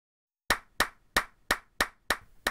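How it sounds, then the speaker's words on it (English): Villagers in a city-building video game clap in perfect unison, seven sharp, evenly spaced claps ringing out alone after a short silence. "creating that natural crowd clapping sound effect"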